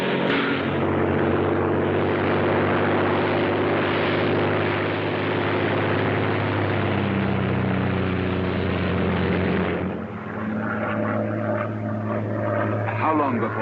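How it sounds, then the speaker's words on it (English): A propeller aircraft drones loudly and continuously in flight over Dover in a 1939 Royal Air Force setting. The engine's hum shifts slightly near the end, and people talk over it. "a Royal Air Force plane is waiting for us at a secret landing place"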